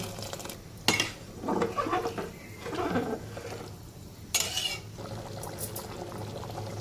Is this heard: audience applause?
no